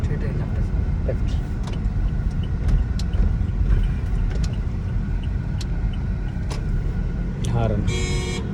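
A Toyota Innova Crysta's horn gives a short toot near the end, over steady cabin and road noise, after a run of faint clicks.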